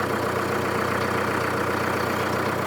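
The engine of a Solis 5724 tractor runs steadily up close, giving a continuous dense rumble with no change in pace and no talk over it.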